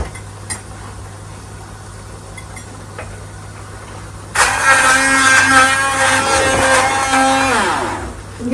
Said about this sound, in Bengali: ব্লেন্ড করে নিব। এটাই হচ্ছে স্পাইস, আর হচ্ছে সরিষা বাটা ব্লেন্ড করবো।